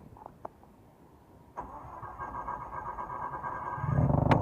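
A Mazda RX7 race car engine cranks and catches with a loud mechanical rumble that builds and grows rougher before cutting off, heard close by with no talking.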